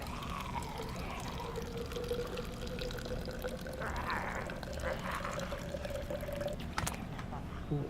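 Water poured from one canteen into another in the video game DayZ: a steady gurgling trickle with a rising filling tone runs for several seconds under a faint background hum, ending in a brief clink.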